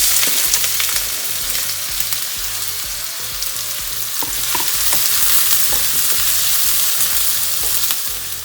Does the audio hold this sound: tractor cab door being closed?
no